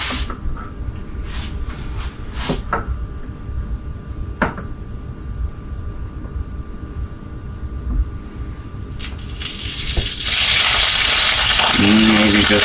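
Fish frying in ghee in a pan: a steady low sizzle with a few clattering knocks, swelling into a loud, bright crackle near the end, with no talk.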